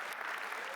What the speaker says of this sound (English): Take a clap again.